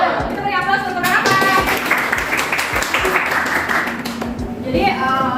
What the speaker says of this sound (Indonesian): Kita beri aplaus untuk apa?